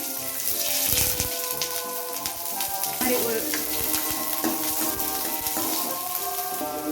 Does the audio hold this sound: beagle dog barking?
no